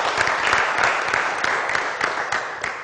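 An audience claps for president Dr. Francisco Alano in a brief burst of dense, even applause, near and fairly loud, with no cheering.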